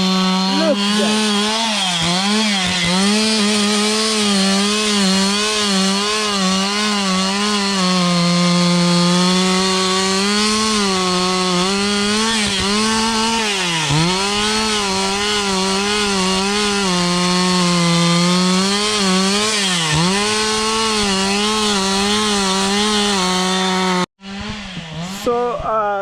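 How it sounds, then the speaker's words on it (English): Power saw cutting through wood, a loud continuous whining drone that dips and rises in pitch as the blade bites, running nearly nonstop before cutting off abruptly near the end. "because of interruption of the noise of the power saw"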